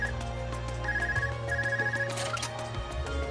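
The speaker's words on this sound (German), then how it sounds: "dann klingelt da wieder das Telefon im Spiel." A telephone rings in the video game Trails of Cold Steel, a repeated electronic bell trill in short bursts over quiet background music.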